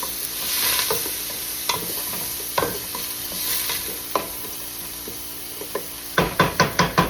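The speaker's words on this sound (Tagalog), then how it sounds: "habang nagluluto yung bawang, yan, luya, lagyan natin ng maraming sibuyas" Garlic, ginger and a heap of onions sauté in a pan with a constant sizzle, punctuated by scattered knocks of a utensil and a quick run of five or six sharp taps at the end.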